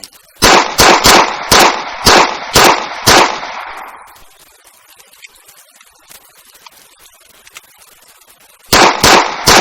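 Luger P08 pistol fired in a war video game, a rapid run of about seven loud, sharp shots with a fading echo tail, then a pause before two more shots.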